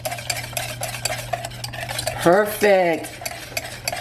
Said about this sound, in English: Let's put on another egg. and whisk vigorously